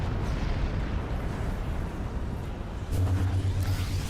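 Kinetic rounds exploding in the strategy game Forts, a rumbling barrage of booms and bursts with a louder cluster of hits near the end.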